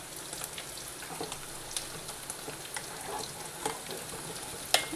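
Tomatoes simmer in a pot of moong dal, giving off a steady bubbling sizzle scattered with small pops and crackles, up close and without talk.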